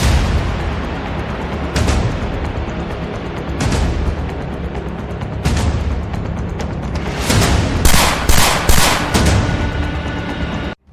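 Firecrackers and gunshots crack out in Mumbai after the Ravan effigy burning, a scattered series of sharp booms and pops with a fast cluster of bangs near the end, loud and echoing.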